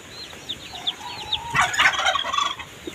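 Broiler chicks peep in a box in a brooding area: a string of quick, high, falling chirps, close and fairly clear, with a brief rustling burst partway through.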